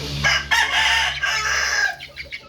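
Chickens cluck and a rooster crows nearby, loud and continuous over a low steady hum.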